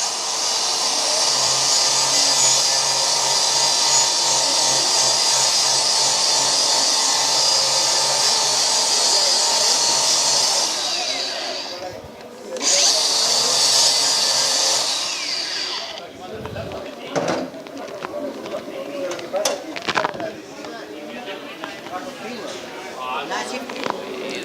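Angle grinder with a 4.5-inch abrasive disc spinning at normal speed, a loud steady high whine that drops briefly, then restarts and fades into clattering handling noise while someone speaks.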